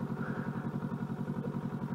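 A 2021 Kawasaki Ninja 650 with an upgraded exhaust idles steadily, its parallel-twin engine making a rapid, even, low-pitched pulsing burble that sounds close and fairly quiet.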